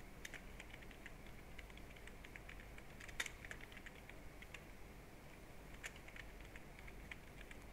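Computer keyboard typing while entering constituency names, numbers and voter counts into a spreadsheet table, a steady run of light, close key clicks and taps with one sharper keystroke partway through, no voices.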